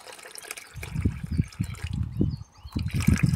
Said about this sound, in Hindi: मैंने उसमें पानी डाल लेती हूँ